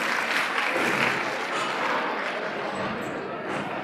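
A dense, continuous wash of applause from a crowd fills the hall of Patel Memorial National College during a Basant Panchami celebration, steady and loud throughout.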